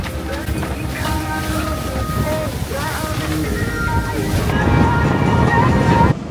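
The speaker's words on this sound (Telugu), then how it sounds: "ఈ బోట్ అలా గుహల్లోంచి వెళ్తుంది." A tour boat running across the sea off Malta's Comino and Gozo islands toward sea caves, engine drone mixed with wave wash and wind buffeting the microphone, loud and continuous throughout.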